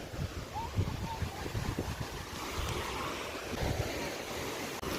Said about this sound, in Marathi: तुम्ही बघू शकता कसे लाटा येतात